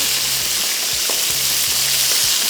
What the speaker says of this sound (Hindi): मशरूम को थोड़ा सा फ्राई करते जाएंगे